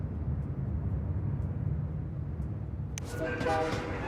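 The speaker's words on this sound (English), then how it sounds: "Oh yeah, I put this train station over here." Train moving through a station in the SimCity 5 city-building game: a steady low rumble runs throughout, then brighter rail screeching and horn-like tones join near the end, all fairly even in loudness.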